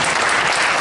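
Applause from a crowd at a chef festival closing event, a brief dense burst of clapping heard loud and alone.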